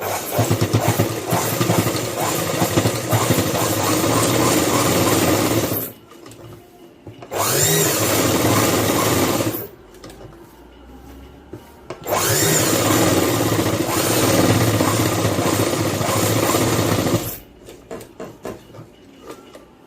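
Electric sewing machine stitching a pocket onto a school uniform: three long bursts of fast, loud mechanical whirring and rattling, separated by short pauses, close to the microphone with no talking.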